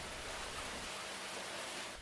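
Steady rain on a wet winter afternoon in a residential neighbourhood, a dense, even hiss of falling drops that holds constant and close throughout with no voices.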